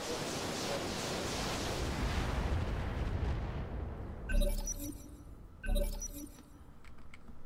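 Weapons fire in the Roguetech BattleTech mod game: a long rumbling barrage that builds and decays, followed by two sharp metallic impacts with ringing clatter a second or so apart.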